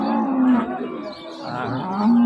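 Several dairy cows moo at once amid a busy cattle market crowd murmur, long low calls overlapping and swelling again toward the end.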